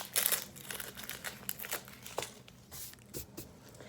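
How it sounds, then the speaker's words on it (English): Papery skin is peeled off a halved onion by hand, giving soft close crinkles and light crackling rustles in irregular bursts, quiet and alone. "you can peel the top layer off and the skin"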